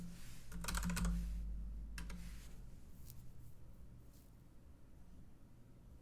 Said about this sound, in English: Just typing in Flash